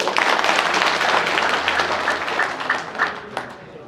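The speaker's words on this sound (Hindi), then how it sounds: "जोर से ताली मारो" An audience at a gathering of an ex-servicemen's welfare organisation breaks into applause, a loud crowd of clapping hands that gradually tapers off near the end.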